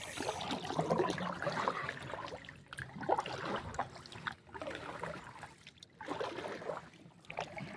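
A small boat moves along river water, with steady sloshing and gurgling beside the hull and a low, continuous rumble throughout.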